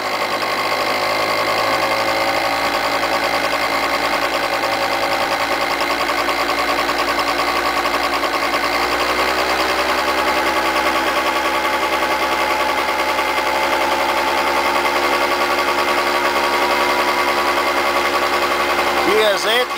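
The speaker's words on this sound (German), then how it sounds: "Und jetzt drehe ich das Gas schön langsam hoch." A petrol motor scooter engine, running on a hydrogen oxyhydrogen additive, loud and steady throughout as the throttle is slowly opened, with the pitch creeping higher toward the end.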